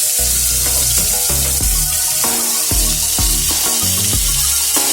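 Liver deep-frying in hot oil: continuous loud dense sizzling and bubbling, close by, with steady crackle throughout and faint low knocking underneath.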